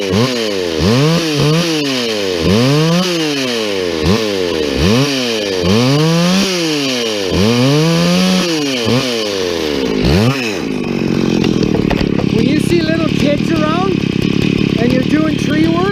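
A chainsaw bucks a felled dead tree, the engine revving up and down in repeated loud cycles before settling into a steady, close, high-pitched drone near the end.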